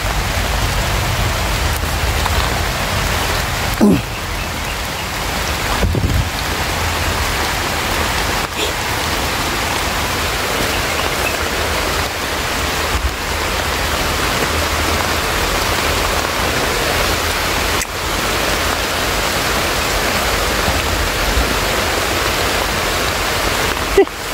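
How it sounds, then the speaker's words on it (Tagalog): Steady, heavy rain pours continuously, a dense hissing roar with occasional louder splashes and knocks, and no talking. "Malakas pa naman yung ulan."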